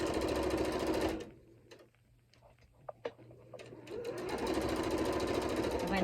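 Sewing machine stitching a decorative envelope cushion, a loud, steady close-up whirr that stops for a couple of seconds of faint handling clicks and taps before running again continuously.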